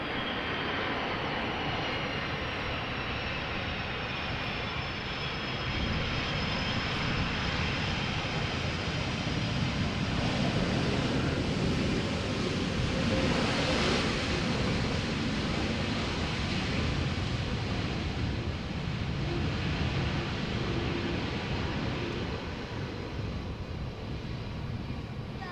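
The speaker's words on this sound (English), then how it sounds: "So this was a Turkish A330 arriving from Istanbul" A Turkish Airlines Airbus A330 arrives at Amsterdam Schiphol in crosswind conditions, a continuous broadband jet roar that swells gently in the middle and then eases, heard from a distance without talk.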